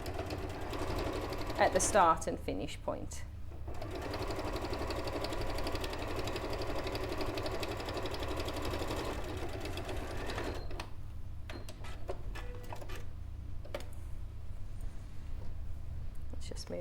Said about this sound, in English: placing this onto the sewing machine, and again reverse stitching